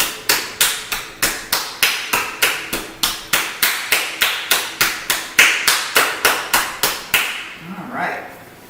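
Hands rhythmically patting and clapping against a bare foot during a yoga session, a steady run of about twenty crisp, evenly spaced slaps close by, ending with a short softer rustle.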